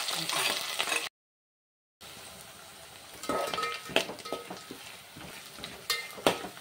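Green chillies, onion and curry leaves frying in a hot pan for an upma tempering: close, crackling sizzle with spatula scrapes and light clinks, cut by a brief dropout, then sharper stirring knocks.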